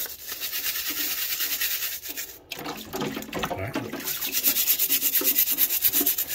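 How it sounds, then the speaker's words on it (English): Stiff scrub brush working hard inside the grooves of a hummingbird feeder, a close, steady rubbing and scraping in quick back-and-forth strokes with a brief pause midway and wet, hollow plastic tones. "This scrub brush actually fits into these little grooves right here. Scrub real good."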